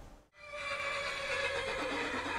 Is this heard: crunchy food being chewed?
no